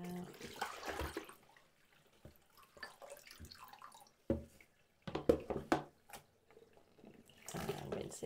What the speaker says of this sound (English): Squeeze it gently, empty that out.